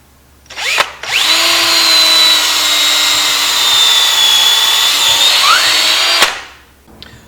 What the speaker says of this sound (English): we're going to drill a hole through the hockey puck